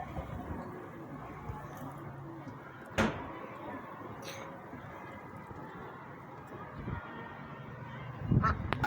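Geese and ducks honk in loud, sharp bursts at feeding time, with a few distinct calls and some clattering against a quiet outdoor background.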